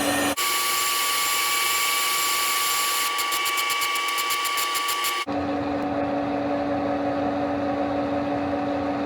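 A machine tool cuts into a metal workpiece, a steady high whine with a rapid pulsing chatter midway, then an abrupt shift to a lower hum as the cut ends.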